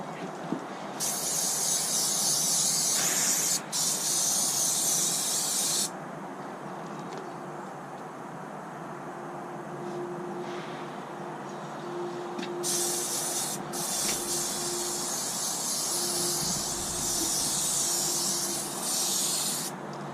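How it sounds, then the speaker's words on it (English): Bursts of maintenance spray hissing from an aerosol can during a trailer hub rebuild, two long sprays around the edges separated by a quieter pause with faint handling noise, close up. "Right, so just give it a good spray around the edges."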